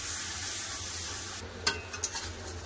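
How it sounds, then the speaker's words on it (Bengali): Meat sautéing with salt and spices in a pan, a soft continuous sizzle, then a few scraping stirs and light clinks toward the end. "একটু লবণ দিয়ে চাপা দিয়ে দেবো, চাপা দিয়ে মাংসটা কষে নেবো"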